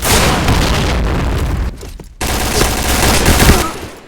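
Gunfire and a bomb blast in a video game clan match: a loud, dense fusillade of rapid shots with booming impacts, a brief lull, then more heavy firing.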